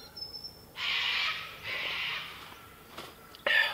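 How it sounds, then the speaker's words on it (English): Sulfur-crested cockatoo flying over during a morning chorus, giving a few harsh, raspy screeches in close succession at moderate distance, with no one talking. "Sulfur-crested cockatoo."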